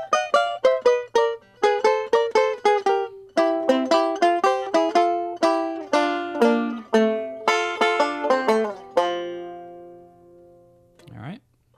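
Banjo playing a song's break: a quick run of bright picked notes and brushed chords on the 3rd and 2nd strings, rhythmic and close, ending with a sustained ring and a final pluck.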